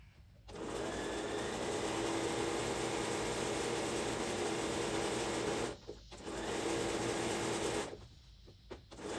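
A domestic sewing machine quilting with a walking foot and zigzag stitch on a polyester-batted quilt runs in a loud steady whir, stopping briefly twice before restarting, with no talking.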